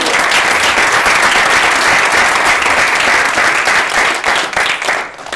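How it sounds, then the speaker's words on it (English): Loud, sustained applause fills the room as an audience claps at a January Do the Right Thing award ceremony, steady for several seconds before thinning out near the end. "let's just applaud all of you."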